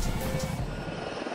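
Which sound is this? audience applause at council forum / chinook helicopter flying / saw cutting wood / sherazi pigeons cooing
chinook helicopter flying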